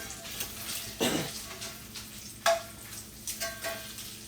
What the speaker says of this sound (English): We're flipping the bacon.